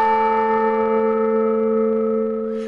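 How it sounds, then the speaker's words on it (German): A newly consecrated large church bell at the Nikolaikirche in Bad Blankenburg rings out with a single strike, its deep, rich tone sustaining and slowly fading, with no other sounds around it. "prüft mit dem ersten Anschlag den Klang der Glocken."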